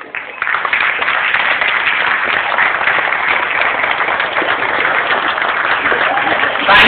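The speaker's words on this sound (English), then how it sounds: "Please raise and big round applause." A crowd at a Kerala Samajam function applauds Mayor Judy Paul of Davie, dense continuous clapping loud and close for nearly seven seconds, starting abruptly and holding steady.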